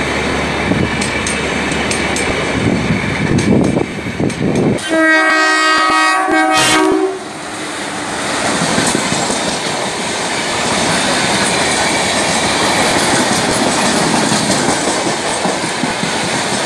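A loud Konkan Railway train rushes close by with rumbling wheels, then a long blaring horn sounds midway and the heavy rolling clatter carries on.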